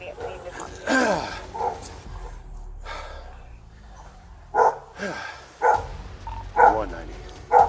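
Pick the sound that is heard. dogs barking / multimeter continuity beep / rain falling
dogs barking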